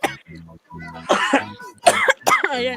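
Several people cough in short harsh bursts, a few separate coughs and throat-clearing sounds spread across a few seconds, close and fairly loud.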